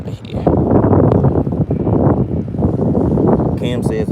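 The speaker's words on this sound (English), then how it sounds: "Those winds have definitely picked up." Strong wind buffets a boat on a rough lake during bass fishing, a continuous loud roar and microphone rumble with gusting swells, and a faint voice beneath the noise.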